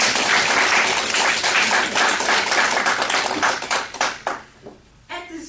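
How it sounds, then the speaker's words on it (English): A lunch-and-learn audience gives a loud, sustained round of applause that thins out and fades over the last second or so, ending in a few scattered claps. "Please join me in a round of applause one more time."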